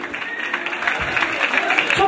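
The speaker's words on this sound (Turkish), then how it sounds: "Sevgili Ali dostumuza güçlü alkışlar lütfen, ama güçlü alkışlar gelsin." Crowd clapping at a halay dance party in Frankfurt, a short burst of applause heard beneath loud music and a voice over the sound system.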